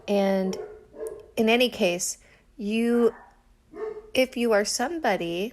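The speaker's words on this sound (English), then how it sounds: "Sorry about the dogs in the background." Dogs bark and yip intermittently in the background behind someone speaking in a quiet room, the sharp calls partly masked by her voice.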